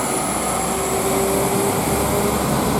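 A West Midlands Railway train pulls out of Birmingham Moor Street bound for Dorridge, giving a steady, loud rumble of wheels and traction with a sustained whine running through it.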